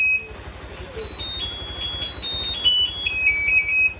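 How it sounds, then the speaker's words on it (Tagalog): An aftermarket towing alarm on a Yamaha YTX motorcycle cycles through warbling, chirping electronic siren tones in a rising and falling pattern, loud and near, over a low pulsing rumble. "Pinalitan ng may-ari ng towing alarm."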